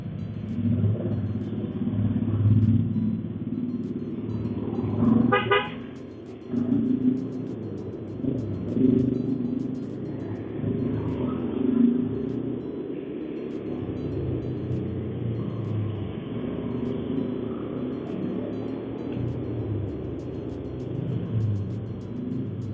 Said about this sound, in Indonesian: Oh ini macet nih Pujasera nih